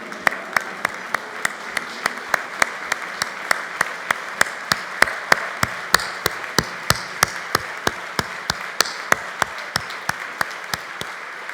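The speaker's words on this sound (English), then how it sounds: "And now please join me in a standing ovation." An audience gives a standing ovation at an anniversary gala, sustained applause with a steady rhythmic pattern of loud, regular claps standing out over the crowd's general clapping.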